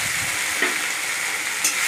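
Ginger and green chili paste sizzling in hot oil with chopped tomatoes for palak paneer, a steady close frying hiss with a couple of brief stirring scrapes, no voices.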